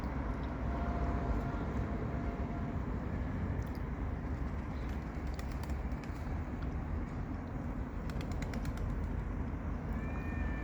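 Soft pigeon cooing over a steady, noisy outdoor background, with a few faint chirps now and then.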